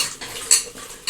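Metal spoon scraping and clinking in a pan as shahi garam masala is mixed into jackfruit pieces, a few sharp close scrapes with a brighter clink midway, no voices.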